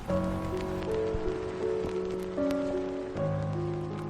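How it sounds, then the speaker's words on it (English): Steady rain patters in a soft, continuous hiss, with gentle sustained tones drifting underneath and no one speaking. "we can hear the rain, and it is lovely"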